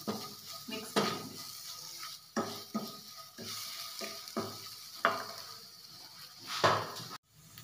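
Egg curry masala with spices and ginger paste stirred in a pan, a spoon scraping and clinking against the metal in repeated strokes over a steady close sizzle of frying.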